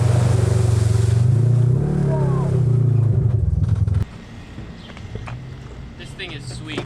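A Polaris RZR XP 4 1000 side-by-side runs on dirt trails with a loud, steady engine drone for about four seconds, then drops to a quieter, rougher running sound, with voices faintly present.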